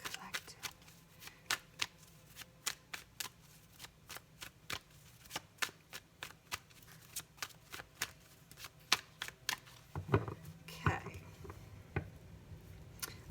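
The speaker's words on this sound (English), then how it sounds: "I shuffle until I feel compelled to stop by spirit" A deck of tarot cards is shuffled by hand in a quiet room: a long run of soft, crisp riffles and taps in an uneven rhythm, close and faint, with a brief busier rustle toward the end.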